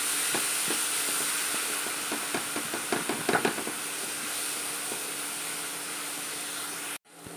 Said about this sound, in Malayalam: നന്നായിട്ടൊന്ന് വഴറ്റിയെടുക്കുക.